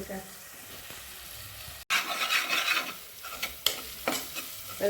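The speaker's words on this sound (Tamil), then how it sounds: "நல்லா வதங்கிடுச்சுங்க எண்ணெய் திரண்டு வந்துடுச்சு" Onions and vegetables sauté in hot oil in a pan while a spoon stirs and scrapes, giving a close, steady sizzle broken by repeated scraping strokes after a brief pause.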